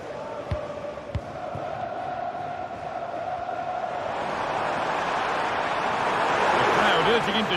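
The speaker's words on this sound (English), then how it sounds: "The crowd urging him to shoot." A stadium crowd in a football video game swells into a rising roar urging a player on, under a commentator's voice, with a couple of ball thumps early.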